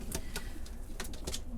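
Several soft coos and wing-flutter bursts from domestic pigeons, a few short irregular sounds over a low steady hum, fairly quiet and close.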